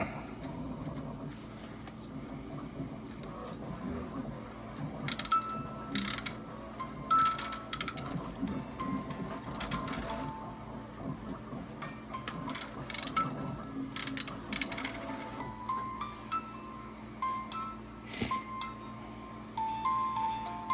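A crank handle turned on a handmade model 3D radio mechanism, giving steady close ratcheting clicks and gear whirring with louder bursts of rattling, heard on its own.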